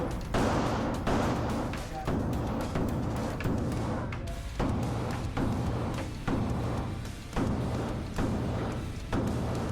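Repeated gunshots ring out at a shooting range from a gun fitted with a Vector Optics Frenzy red dot sight, with steady booming reports about every second over a dense outdoor background.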